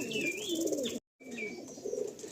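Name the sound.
pigeons cooing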